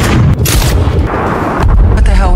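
Gunfire and blasts in the action film The Gorge: loud booming shots and an explosion, heavy low rumble with sharp cracks, dense and close, with a voice speaking under the noise.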